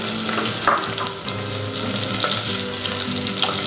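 A sliced large onion sizzles in hot oil with a pinch of asafoetida, frying steadily in a pan with occasional stirring scrapes, close and loud throughout, and no voices.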